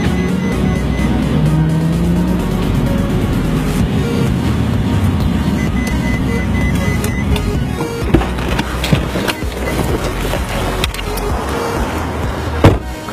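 A Ferrari 458 Spider drives along with a loud, continuous engine roar and road noise, the pitch rising early on, with a few sharp clicks and knocks near the end.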